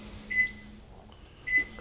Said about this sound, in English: we're actually going to do this one in the microwave